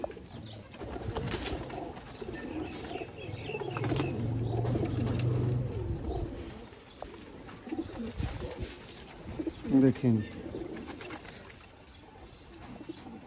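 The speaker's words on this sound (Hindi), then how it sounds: "तीन सियालकोटी छत वाले कबूतर दोस्तों वाइट दुमों में कैसे होते हैं" Sialkoti pigeons coo softly and repeatedly at close range, with occasional wing flutters and a brief spoken remark near the start.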